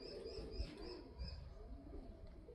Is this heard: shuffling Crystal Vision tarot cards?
no